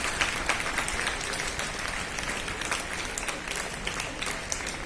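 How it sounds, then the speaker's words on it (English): An audience applauds students at a Republic Day event, with steady, dense clapping filling the room for the full stretch and no voices over it. "I think you all deserve a huge, huge round of applause."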